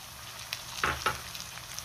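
Tomato sautés in a pan of oil with ginger-garlic paste for a restaurant-style mushroom masala, giving a soft steady sizzle with two brief scraping stirs nearby.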